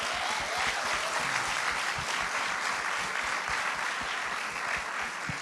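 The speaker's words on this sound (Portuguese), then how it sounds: "Você pode aplaudir o Senhor?" Congregation applauding in a church service at Igreja Diante do Trono in Belo Horizonte, dense sustained clapping from a large crowd, no speech.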